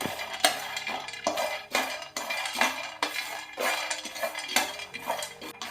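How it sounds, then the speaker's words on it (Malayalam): Roasted peanuts are warmed and stirred in a pan, producing repeated rhythmic scraping and dry rattling clinks of a spoon against metal, close and moderately quiet without speech. "ഇതിലോട്ട് നമുക്ക് അര കപ്പ് കപ്പലണ്ടി ഒന്ന് വറുത്തെടുക്കാം"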